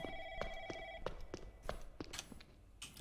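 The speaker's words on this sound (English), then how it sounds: "There's that stupid phone." A telephone in the Hemoglobin Project horror game rings faintly with a few repeated trilling bursts, mixed with footsteps and other quiet in-game sounds.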